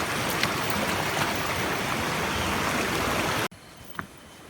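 Water rushes across a hill path in Nepal, a loud, steady flow close by that cuts off abruptly, leaving only faint background sound.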